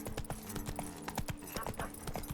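Roach, the horse in The Witcher 3: Blood and Wine, gallops with rapid, rhythmic hoof clip-clops on the ground, close and continuous, over faint background game ambience.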